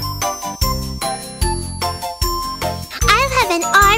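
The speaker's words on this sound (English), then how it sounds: "The ice cream truck bells go ring-a-ding-ding, ring-a-ding-ding, ring-a-ding-ding." Ice cream truck bells in a children's song ring out as bright, repeated chiming tones over a bouncy musical backing, with a singing voice joining toward the end.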